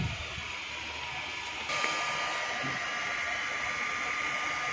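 A hot air plastic welding tool blows a steady, even hiss while repairing a damaged plastic water tank along a cut groove. It is a continuous moderate whoosh with a slight step up partway through and no speech.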